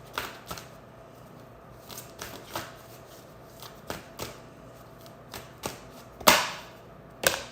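Afro Goddess oracle cards being shuffled by hand: a series of soft riffling bursts at an uneven pace, with two sharper, louder snaps near the end, close by in a quiet room.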